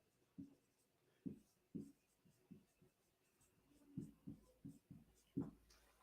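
Marker strokes on a board during a business talk come as a series of faint, close squeaky scratches in short irregular bursts, about a dozen strokes with brief pauses between them.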